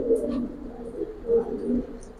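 Silver and Pankhi pigeons in a loft give soft, low cooing murmurs that rise and fall steadily over a faint background.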